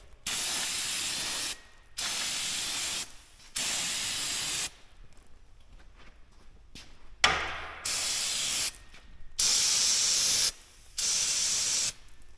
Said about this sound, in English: Don't think I have enough spray paint.